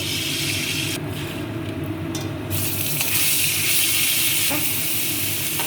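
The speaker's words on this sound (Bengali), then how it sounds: "এবার ফুলকপিটা তেল দিয়ে দেবো" Cauliflower fries in oil in a pan, giving a steady, loud, dense sizzle with bubbling hiss throughout and occasional stirring scrapes.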